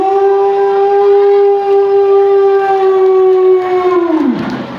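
A voice imitates an ambulance siren with a loud, sustained, steady wail that slides downward and cuts off at the end, with no speech.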